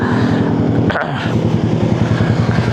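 A Yamaha R15M motorcycle idles steadily and loudly close by on a roadside overlooking Taal, its engine thrumming in an even pulse throughout, with a brief louder burst near the start.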